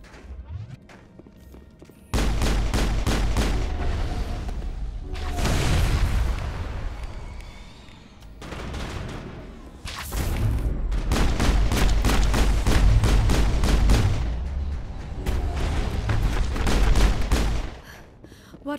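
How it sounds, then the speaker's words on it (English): Assault rifle fire in the video game Mass Effect rattles in long, rapid automatic bursts mixed with heavy booming blasts, loud and dense for most of the stretch, with no speech. "Why is Liara using an assault rifle?"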